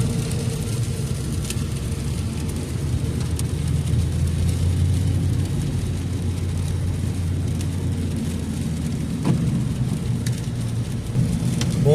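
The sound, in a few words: heavy rain falling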